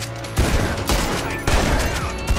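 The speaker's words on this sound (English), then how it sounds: "Guns fucking going off big time" Loud rapid gunfire from Red Dead Redemption 2 Online, a dense fusillade of overlapping shots in bursts with brief lulls between them.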